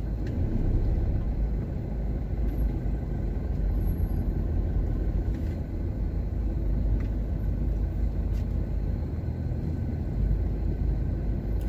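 Road traffic on the way to airport Terminal 3, a steady low rumble of passing cars and engines heard from inside a vehicle, continuous and even with no talk.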